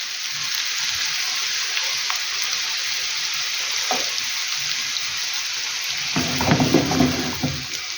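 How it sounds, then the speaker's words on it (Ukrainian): Young potatoes and onion fry in a pan with a steady, close sizzle that runs throughout, with a short louder burst of spattering and stirring near the end; no voices. "Поки картопля смажується з цибулею"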